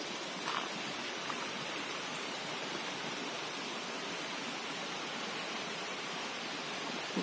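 A waterfall on a rainy forest hiking trail in Thailand gives a constant, even hiss of falling water, steady and moderately distant with no other sounds standing out.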